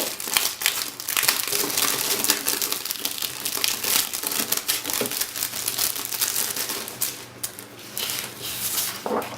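Shiny special paper sheets crinkle and rustle close up in busy, irregular bursts of crackling as they are handled and shuffled, with no talking.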